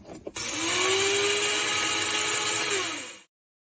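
A bone grinder processes bone for an autologous bone graft, a short sharp click followed by about three seconds of steady high-pitched whirring that winds down slightly before stopping abruptly.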